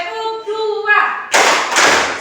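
A classroom of tenth-grade students does a rhythmic cheer clap, two sharp bursts of clapping close together following a short spoken count.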